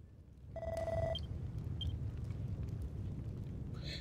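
Echo Flute item in Dragon Quest Builders 2, a clear sustained flute-like tone lasting about half a second over a low rumbling game ambience, followed by faint short chimes.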